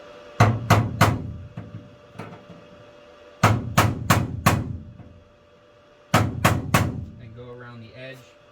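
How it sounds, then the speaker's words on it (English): Rapid bursts of sharp metallic taps as a hammer drives a punch around the edge of a van's shower floor, in three clusters of three to four strikes, ending with a brief stretch of talk. "Take a hammer and a punch or a flathead screwdriver."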